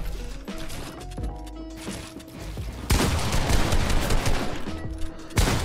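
An assault rifle fires long, rapid bursts in a box-fight video game, hammering close and loud with mechanical clatter between volleys and a louder sustained barrage in the second half.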